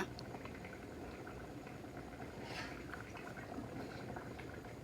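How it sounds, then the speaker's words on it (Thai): Catfish jungle curry boiling steadily in a pot, a constant close bubbling simmer with no voices over it. "ช่วงที่ใส่ปลาลงไปก็ไม่ต้องคนนะคะ ปล่อยให้เขาเดือดไปเรื่อยๆค่ะ"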